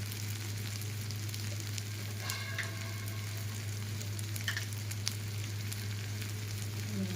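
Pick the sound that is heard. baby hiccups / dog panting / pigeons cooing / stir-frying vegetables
stir-frying vegetables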